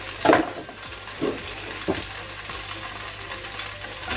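Onions hit a hot pan for a steak cobbler, a few quick clattering bursts in the opening two seconds giving way to a soft, steady sizzle close by.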